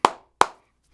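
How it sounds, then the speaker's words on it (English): Two sharp, close hand claps about a third of a second apart, each ringing briefly, then quiet. "clap your hands twice and give me a thumbs up."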